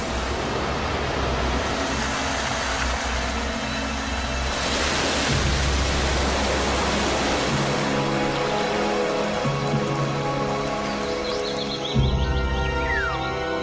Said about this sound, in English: This is the origin of the rain, which rushes down in countless waterfalls.